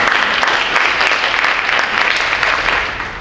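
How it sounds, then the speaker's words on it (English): Sustained applause from an audience at the Oakleaf High community meeting, steady dense clapping throughout that tapers slightly at the end, with no talking over it. "So you can clap, Ms. Bola."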